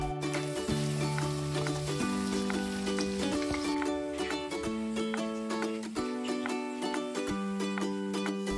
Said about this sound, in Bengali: তেলের মধ্যে কাটা পটলগুলো দিয়ে দিলাম ভাজার জন্য।